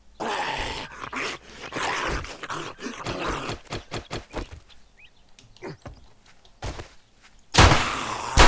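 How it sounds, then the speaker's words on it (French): Dog barks and growls from the survival video game 7 Days to Die come in a run of sharp, loud bursts, then trail off into quieter rustling and a few distant thuds before a loud final burst. "je sais pas si je me suis trompé, mais j'ai entendu aboyer"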